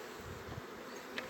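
Bees swarm thickly around an open hive during a beekeeping class, giving a steady, dense drone that stays fairly quiet and unbroken throughout.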